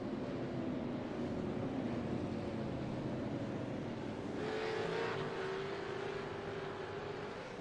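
Race cars in iRacing on the Circuit of the Americas charge together into turn one, a steady dense engine roar holding level throughout with a rising whine near the end.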